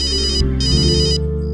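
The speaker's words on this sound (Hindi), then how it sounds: "बॉस का फोन है।" A mobile phone ringtone rings in two bursts of a bright repeating electronic tune over a steady low hum, loud and close.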